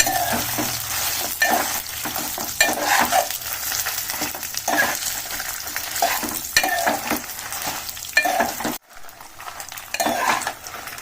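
Ingredients for a spicy rice powder being dry-roasted and stirred in a pan, with a steady sizzle and repeated scraping strokes of a utensil against the metal, close and fairly loud, dropping out briefly near the end.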